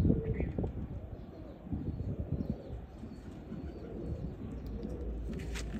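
A female Sialkoti pigeon gives low, soft, rolling coos close by, heard beneath someone talking and faint background rustle.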